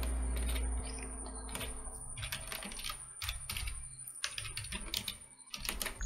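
Quick irregular keystrokes on a computer keyboard as a GST number is typed into a form, close and clear, with small pauses between bursts and no talking.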